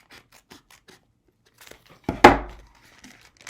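Scissors snip through folded paper in a crafting session: a few faint rustles and small ticks, then one loud crisp cut with crinkling paper close by, followed by quiet handling.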